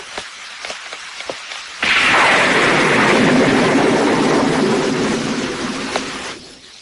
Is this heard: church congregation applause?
no